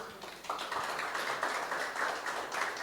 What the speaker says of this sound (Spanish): Vamos a recibirlos con un aplauso.